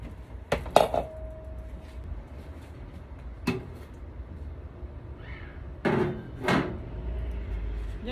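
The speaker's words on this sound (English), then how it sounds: "I'm going to put the lid on it to cook it" A lid goes onto a cooking pot of tomato stew with a few sharp clanks and clatters, then quieter metallic knocks and a brief rattle, close up with no talking.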